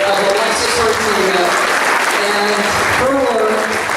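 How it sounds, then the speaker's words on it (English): Audience giving a big round of applause at an event, loud dense clapping close by throughout, with a voice talking over it. "So, that deserves a big round of applause"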